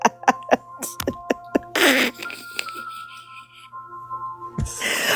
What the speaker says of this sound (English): did you fart?